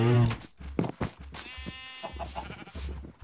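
A sheep bleats in the Minecraft video game, with a few short, wavering bleats close up, set among scattered small clicks and background noise.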